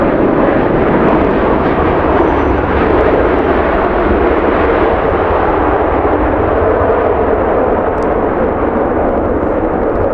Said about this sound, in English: Emirates about to touch down. Nice and smooth, despite the crosswind.